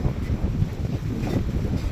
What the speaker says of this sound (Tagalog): Labi ka kusog sa hangin